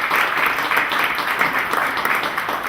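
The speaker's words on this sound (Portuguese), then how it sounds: "Os nossos aplausos para ela" Audience applause at a tertúlia gathering for the woman who prepared the cocktail, a dense, steady wash of many hands clapping continuously throughout at moderate loudness.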